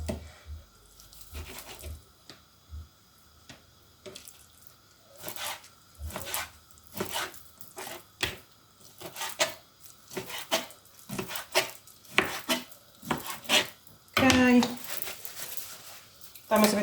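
Chicken being chopped for a chicken goulash: soft knife knocks on a board, some in quick bursts and some spaced apart, heard under ongoing talk and close by.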